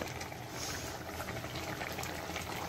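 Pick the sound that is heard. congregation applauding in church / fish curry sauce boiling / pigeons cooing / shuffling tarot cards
fish curry sauce boiling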